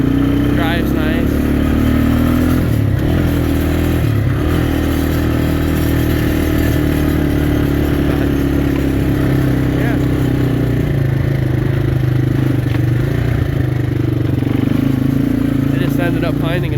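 A loud 1988 Yamaha Moto 4 250 2x4 ATV engine idles and runs steadily throughout, with a continuous low rumble and some rattling clatter.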